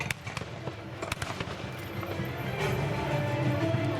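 Several sharp gunshot cracks ring out in quick succession, followed by a loud rising rush of noise, during a night battle reenactment of the siege of Zamość Fortress.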